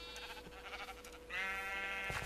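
Minecraft sheep bleat in a blocky game world: a steady run of wavering, nasal baas, close and clear, swelling louder midway and holding to the end with no talk over it.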